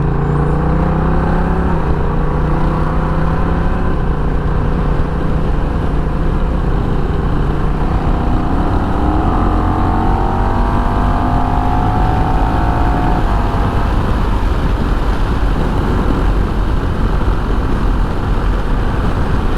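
A steady, loud motorcycle engine drone from a Honda Rebel 1100 with a deep rumbling exhaust, pitch rising and shifting as it revs, continuous throughout with no talking.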